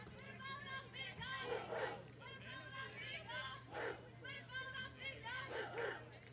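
A crowd at a college baseball game imitates a barking dog, repeated rhythmic woofing bursts rising from the stands every second or so, while an announcer talks steadily over them.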